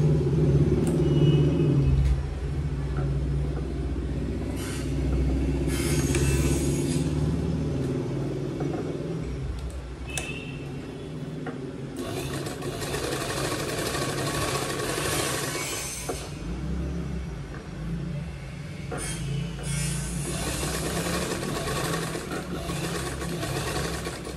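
A sewing machine runs in several bursts, stitching along the edge of a girl's long gown, with a whirring mechanical rattle between quieter pauses and low room rumble.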